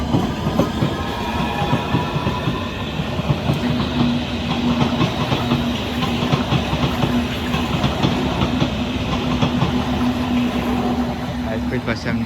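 Class 357 electric train arriving at Barking station on a Fenchurch Street service, wheels clattering and rumbling loudly over the rails with a steady motor whine, nearby talk mixing in.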